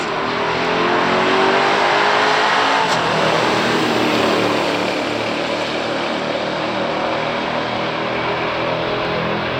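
A 1969 Dodge Super Bee A12 and a 1970 Oldsmobile F85 W-31 350 with Turbo 350 transmission in a stock drag race, loud engines roaring and revving hard at full throttle, then holding a sustained high-speed drone.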